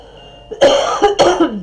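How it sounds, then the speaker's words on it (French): Two short, harsh coughs from a nearby person follow a brief breath, loud and alone with no talking. "Pardon, je tousse encore un peu."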